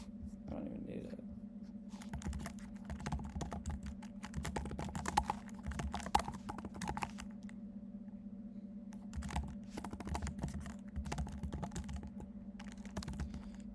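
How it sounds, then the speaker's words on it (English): Rapid, uneven clicking of a computer keyboard during coding, close and steady, with bursts of quicker keystrokes and brief pauses, over a low background hum and no speech. "I need to practice typing, because I am missing every keystroke today"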